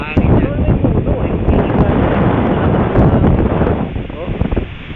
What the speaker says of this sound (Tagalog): Hangin yan.